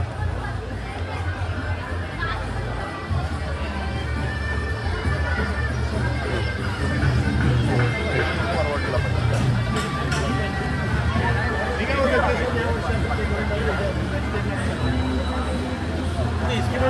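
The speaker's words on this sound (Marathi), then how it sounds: "खूप गर्दी आहे." Crowd babble fills a busy Ganesh idol workshop in Lalbaug, Mumbai on a holiday, dense overlapping chatter and voices all around with occasional footsteps, steady and loud throughout.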